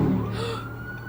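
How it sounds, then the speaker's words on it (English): Police car sirens wailing during a chase in Worcester as a dozen cruisers speed past, a brief, loud rising tone over street noise that fades quickly. "New video shows a dozen Worcester police cars speeding by, chasing a stolen truck."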